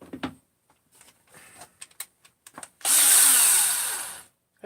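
A power tool fitted with a coarse roll-lock abrasive wheel spins up to polish an engine crankcase, a loud, close, sustained whir with rising pitch that follows scattered handling clicks and knocks.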